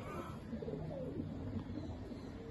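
Golden breed pigeons coo softly in a loft, with low repeated burbling calls against a faint background hum.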